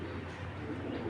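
Imported racing pigeons cooing softly and steadily at close range, a continuous low murmur of several birds together with no talk over it.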